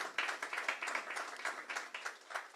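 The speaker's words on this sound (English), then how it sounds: "Can you please clap for him as he comes up?" Audience clapping at a startup investment forum as a panelist walks on stage, a steady patter of many hands at moderate distance, fairly soft and even, lasting a couple of seconds with no talk over it.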